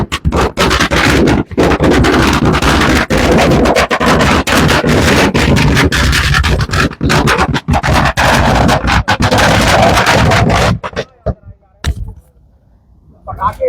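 Firecrackers set off in rapid, dense bursts at close range, a loud continuous crackle of many small blasts that runs for about eleven seconds before dropping to a few scattered pops and quiet.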